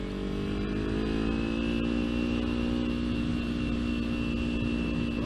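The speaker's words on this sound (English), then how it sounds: "a fucked up engine right there." A motorcycle engine in bad condition, running with a steady rough drone and a strained, harmonic whine that holds continuously throughout, loud and close with no talk.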